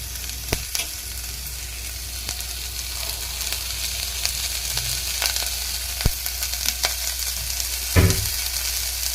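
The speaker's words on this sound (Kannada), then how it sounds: "ನೀರ್ ಸಾರಿಗೆ ಸ್ವಲ್ಪ ಚೆನ್ನಾಗಿ ಬಾಡಿಸ್ಕೊಳ್ಳಿ" Onion and garlic sautéing in a pan for neer saaru, a steady loud sizzle with occasional sharp clinks of stirring, no voices.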